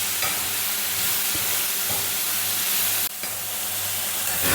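Banana flower and horse gram thoran being stirred in a hot pan, a steady sizzle with soft scraping strokes and a couple of sharper knocks against the pan, close and continuous with no talking.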